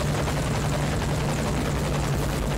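A helicopter from the Metal Gear Solid V: The Phantom Pain game thumps and roars steadily, loud and close, with no talk over it.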